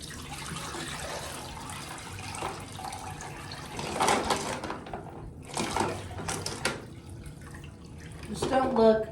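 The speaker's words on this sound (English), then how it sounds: "water's getting kind of full. We are going to dump it a little bit." Water sloshes and pours as a pet turtle tank is partly emptied, running steadily with louder splashing bursts near the middle and end while people talk over it.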